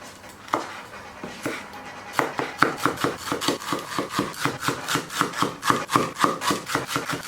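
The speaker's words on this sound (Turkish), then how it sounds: "Burada yarım bağ maydanozum var. Bunu da ince ince doğrayacağım." A knife finely chops parsley on a cutting board, starting with a few scattered strokes before settling into a fast, steady rhythm.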